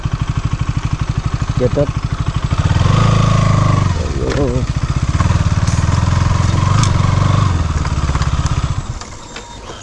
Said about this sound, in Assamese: বাইক ইয়াতে ষ্টাৰ্ট অফ কৰি ইয়াতে ষ্টেণ্ড কৰিছোঁ